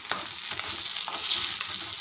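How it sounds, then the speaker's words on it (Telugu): Food frying in hot oil while being stirred, a steady close sizzle with scraping stir strokes throughout, no voices. "నూనె ఉంచుకొని బాగా వేయించుకోవాలి."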